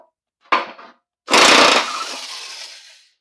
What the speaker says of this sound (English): See if I can get this one off with an impact wrench.